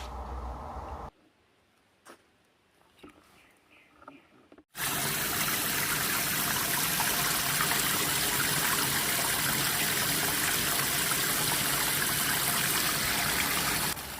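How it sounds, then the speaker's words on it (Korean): Clear mountain stream water gushes loudly and steadily from a pipe at a countryside farm hut, a dense close rush that takes over after a brief quieter stretch with faint trickling. "이렇게 농막까지 물이 아주 콸콸콸콸 나오죠"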